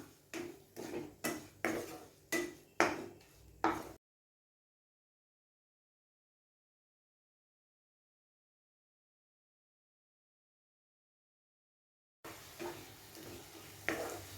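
Watermelon rind halwa with jaggery is stirred and sautéed in a pan, with rhythmic scraping strokes at a steady pace, then a long silent gap and a softer stretch of frying noise.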